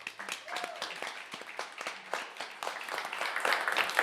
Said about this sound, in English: let's have another big round of applause for our first act